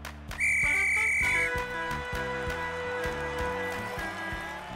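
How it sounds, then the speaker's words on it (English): A referee's whistle is blown in a cartoon football game, giving one loud, steady shrill tone for about a second over cartoon music that keeps playing afterward. "Blow your whistle and let the game begin, Charlie."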